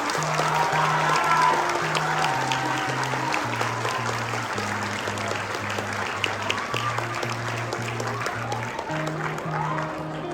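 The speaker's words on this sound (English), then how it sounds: "Let's have a huge round of applause for Shakespeare House." Steady applause from a crowd at a school investiture ceremony fills the clip, loud and continuous, with a sustained musical tone underneath.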